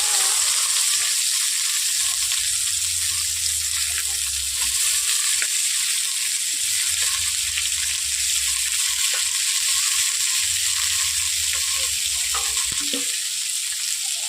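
Egg and chopped carrot frying in hot oil in a wok for vegetable fried rice, giving a loud, continuous close sizzle and crackle that runs unbroken throughout.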